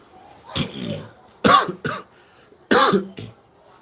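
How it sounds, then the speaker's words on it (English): A man coughs three times in short, throaty bursts, close and loud, with brief pauses between them. "just having a little cough here"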